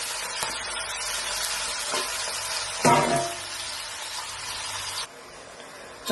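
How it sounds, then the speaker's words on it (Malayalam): Beef sizzles steadily in hot coconut oil and ghee, a constant crackling hiss with a brief louder clatter of stirring partway through, then the sizzle drops off. "ആദ്യം നമുക്കിതൊന്ന് വറുത്ത് കോരി എടുക്കാം."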